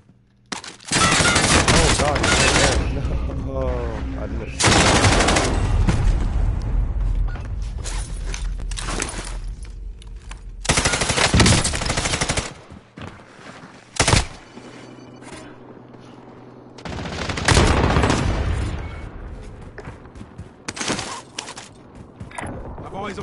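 Gunfire in a PS4 video game: rapid fusillades and bursts of shots come repeatedly over about twenty seconds, loud and close, with brief lulls and some voices in between.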